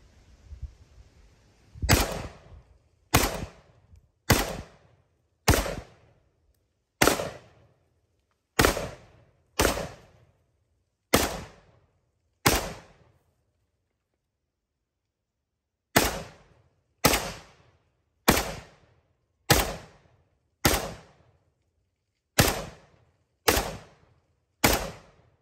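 A 28-year-old Norinco MAK-90 Sporter rifle in 7.62x39 fires about eighteen sharp, loud semi-auto shots outdoors, each with a short decaying echo. The shots come in two strings at an irregular pace, with a long silent pause between them.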